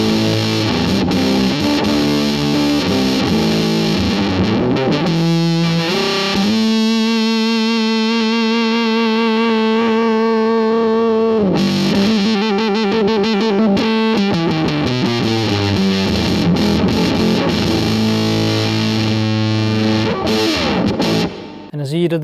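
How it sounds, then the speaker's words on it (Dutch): An electric guitar played through a Billy Gibbons Octavio fuzz pedal turned fully open, thick and saturated, with sustained distorted chords and notes ringing loudly throughout. "En zet ik de fuzz nu helemaal open."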